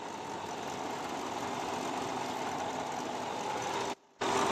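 The engine of a 2022 Changan Eado Plus with a cracked coolant housing assembly idles in a steady, even drone, faint and constant, with a brief dropout near the end.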